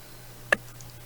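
A single crisp computer mouse click, close and brief, over a low steady hum.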